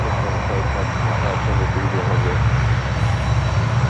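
DHL Boeing 767 cargo jet at Miami airport, a steady, loud engine roar filling the whole clip, with faint voice-like murmurs partly audible underneath.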